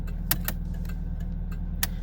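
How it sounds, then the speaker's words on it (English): Turn signal blinker in a 1986 Pontiac Fiero ticking in an uneven few clicks over the steady idle hum of its rear-mounted engine, close and clear inside the cabin. "You get your blinker there."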